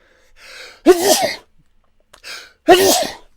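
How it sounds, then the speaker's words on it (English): Two loud sneezes, each preceded by a sharp inhaled gasp, close to the listener with brief quiet between them. "I have to sneeze"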